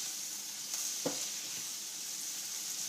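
Onions frying on top of browned venison for an Appalachian venison stew, a steady faint sizzle with a couple of soft clinks from stirring, no talking.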